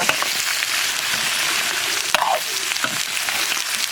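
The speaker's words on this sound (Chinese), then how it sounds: "锅里多来一点猪油，油后下入葱姜干辣椒， 炒排骨" Pork ribs stir-frying in a wok with lard, scallion, ginger and dried chili, a loud continuous sizzle and hiss with a sharp scrape of the spatula partway through.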